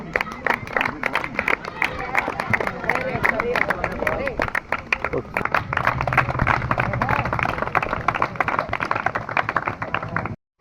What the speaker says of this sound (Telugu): అందరు క్లాప్స్ ప్లీజ్